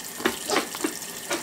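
Cold water runs from a tap into a sink while a firm wet-felted wool bead is rinsed, a steady close splashing with soft bursts as the bead passes through the stream.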